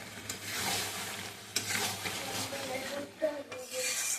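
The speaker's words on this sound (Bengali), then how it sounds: "কষানো হচ্ছে।" Spice masala stirred and sautéed in a pan for a dinner of luchi and chana paneer, with steady scraping and sizzling from a spoon working close by, over a low background hum.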